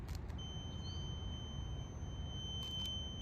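Two steady electronic tones ring continuously from beeping bases at a beep baseball game over a low outdoor rumble, with a few faint clicks.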